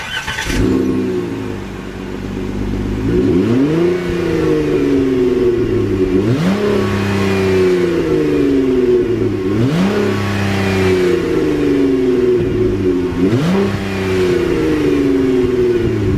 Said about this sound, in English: I'm gonna go ahead and start it up, let y'all get the quick exhaust note real quick,